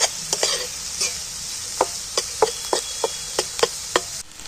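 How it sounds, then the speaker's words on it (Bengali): Onion frying in hot oil in a pan for a chicken curry, stirred often: a steady close sizzle with a string of sharp scraping clicks from the spoon roughly every half second, no voices. "এটাকে আমি তেলের মধ্যে একটু ভেজে নেব, একটু ঘন ঘন নাড়তে হবে পেঁয়াজটা"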